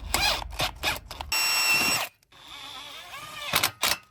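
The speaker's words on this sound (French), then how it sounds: "Je prends ma perceuse." A cordless drill driving a screw into a wooden deck cleat of exotic-wood decking, with short trigger bursts followed by a sustained whirring drive and another brief burst after a pause, heard up close.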